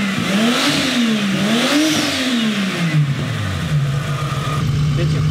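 A nearby turbocharged engine free-revs twice in rising and falling sweeps, then settles into a lower steady drone with a faint fluttering turbo hiss.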